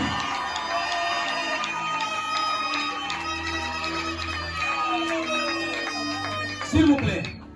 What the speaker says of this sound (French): Yes, avec des acclamations.